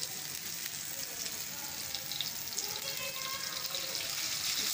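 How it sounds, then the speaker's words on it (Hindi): Marinated chicken pieces for shawarma fry in oil over a medium flame, a continuous soft bubbling sizzle that stays even throughout, heard at a low level with no distinct voices. "ये मैंने ऑयल डाला है, मीडियम फ्लेम पर इसको हम फ्राई करेंगे"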